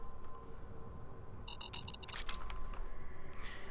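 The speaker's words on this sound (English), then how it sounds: "Notice how quickly they beep. They blow up like 2 or 3 times faster in Frost than they do in Vanilla." A landmine in the Fallout 4 Frost mod gives a quick run of about six rapid, high electronic beeps in close succession. Faint, sharp clatters and ambient game noise follow over a low background hum.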